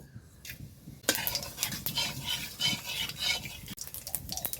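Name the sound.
whole spices (cardamom, cinnamon, cumin) tempering in hot oil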